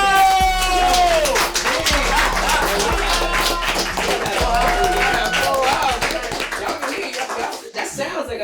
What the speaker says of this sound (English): Yo, let's clap it up.